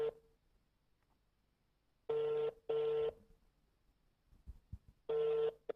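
Telephone dialing tones on a phone-in radio programme: three steady electronic beeps, the first two close together and the third after a pause, clear against a quiet background with no talking.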